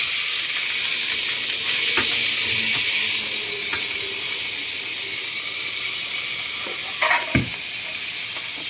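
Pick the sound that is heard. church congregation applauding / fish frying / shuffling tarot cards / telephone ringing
fish frying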